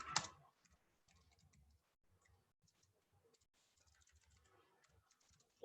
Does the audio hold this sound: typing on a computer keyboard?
yes